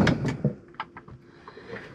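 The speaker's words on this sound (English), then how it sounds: "Still the same Hymer quality cupboard catches and things" A few light clicks and knocks of a Hymer motorhome cupboard door catch shutting on a white gloss door, short and close, with a faint voice at the start.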